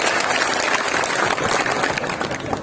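Loud, dense applause from a large crowd at a Hindi poetry recital in Nimbahera, steady clapping throughout with no gaps.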